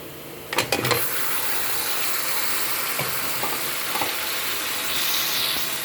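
Beef dropped into a pot of hot spices for beef yakhni pulao: a burst of clattering as the meat goes in, then a steady, loud sizzle with a few soft stirring scrapes.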